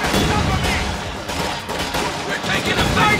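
Sustained gunfire from a Company of Heroes 2 battle in the Ardennes, a dense rattle of shots and distant booms rolling continuously, loud and layered like a firefight.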